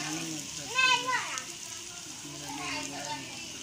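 Okra (bhindi) fries in a pan with a steady sizzling hiss, while a person talks over it near the start and again toward the end.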